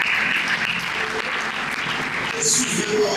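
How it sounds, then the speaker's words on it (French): A funeral congregation claps together in sustained applause, dense and continuous, with voices calling out among the crowd. "Est-ce qu'on peut acclamer?"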